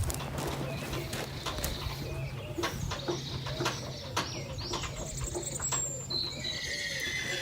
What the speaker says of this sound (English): Birds are lovely here